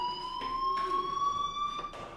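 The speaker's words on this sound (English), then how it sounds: "Hey, do you hear that fire alarm? That means you should be outside." Fire alarm ringing in the video game Life Is Strange, a loud sustained electronic tone with steady pitch and periodic pulsing bursts, heard alone without talk.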